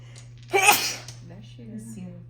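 A single sharp sneeze bursts out close by over a steady low hum, followed by faint murmuring voices afterward.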